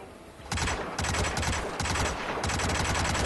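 Gunfire in the video game Hitman on PS4, sustained rapid automatic bursts with brief pauses between volleys, loud and close with no voices.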